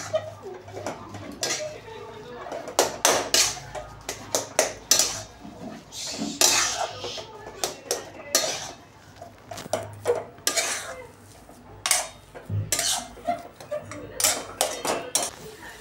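Sandwich filling stirred with coarsely crushed coriander seeds in a bowl: repeated sharp scraping and clinking of a spoon against the bowl, close and fairly loud, in irregular bursts with brief pauses between strokes.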